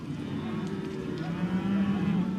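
Cattle low on a Queensland cattle station, a long steady moo held over constant outdoor rumble, moderately close and without speech.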